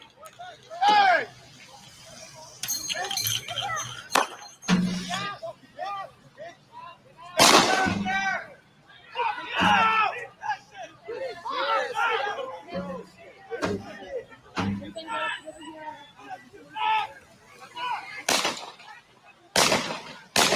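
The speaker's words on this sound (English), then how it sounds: "what you just heard was actual gunfire" Several sharp gunshots ring out amid shouting crowds and chatter during the 2020 Kenosha unrest, the reports scattered irregularly over about twenty seconds, some loud and close, with voices yelling in between.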